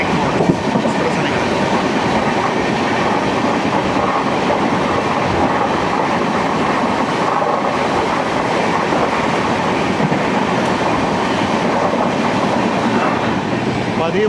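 Humsafar Express passenger train running on rails from Gandhidham, a loud, steady rumble with rhythmic clickety-clack of wheels throughout.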